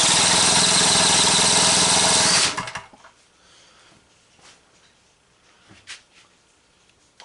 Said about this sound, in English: Cranks over just fine.